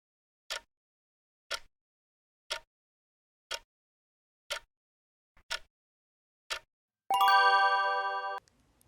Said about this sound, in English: the clock will be ticking